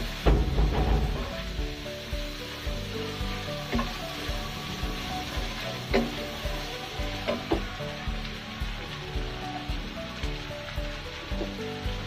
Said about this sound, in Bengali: জিরে গুঁড়ো এক চা চামচ, মশলাগুলো একটু হালকা ভেজে নেব,